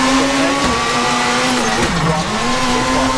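A rally car in the video game WRC 4 holds a loud, steady engine drone that dips briefly in pitch as it brakes and slides, with faint tyre scrubbing.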